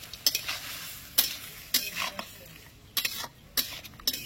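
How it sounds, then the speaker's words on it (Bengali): Vegetables including capsicum and tomato, mixed with raisins, stirred and sautéed in a pan: spatula scrapes and clinks in irregular bursts over a light sizzle, close by. "আর এখনই দিয়ে দিচ্ছি কিশমিশ, এটা মিষ্টি মিষ্টি হবে বলেছিলাম। এবার কষাতে থাকি।"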